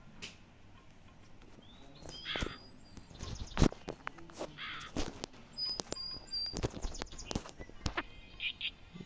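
Crow caws from the Meena 2 video game, a Bangladeshi game, repeat in short harsh bursts over chirps, light clatter and faint background sound, with no talk.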